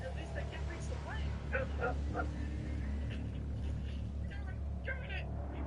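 Several family dogs bark and yip in short, scattered bursts at a fancy RC car driving in front of them. The barks are mid-distance over a constant low hum, and voices can be heard.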